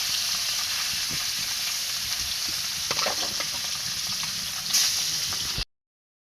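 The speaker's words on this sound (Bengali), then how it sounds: "দেখুন মাছটা আমি লাল লাল করে ভেজে নিয়েছি।" Fish fries in a pan of hot oil with a loud, continuous sizzle and crackle, a few spatters and scrapes popping up before it cuts off abruptly; no voices.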